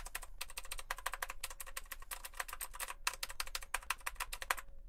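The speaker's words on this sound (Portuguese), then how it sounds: "Switch blue é aquele switch que faz mais barulho." Blue-switch mechanical keyboard keys clatter in rapid, sharp clicks, pressed in quick irregular bursts up close, crisp and fairly quiet, with no talking.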